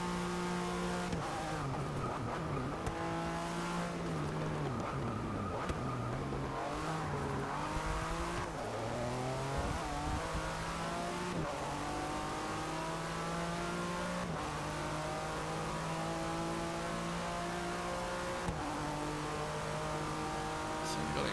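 A race car engine revs and accelerates through gear changes in a Forza Motorsport 6 Le Mans racing game, with loud rising and falling whines repeating continuously and shifting pitch with each gear, alone without speech.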